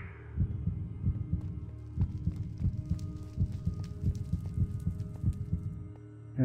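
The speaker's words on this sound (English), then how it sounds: "I can hear my heartbeat going." A steady pounding heartbeat in Minecraft Decked Out 2, the deep double thump repeating about twice a second, loud and rhythmic over a low background hum, with no talk.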